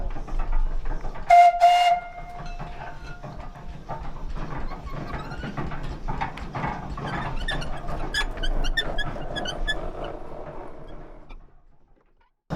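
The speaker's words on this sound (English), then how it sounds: "the machine we have behind us is a 1908 Dolbeer steam logging machine" A 1908 Dolbeer steam donkey, a wood-fired logging machine, opens with a short steam whistle blast followed by a long run of hissing, chuffing and clanking machinery that fades out near the end.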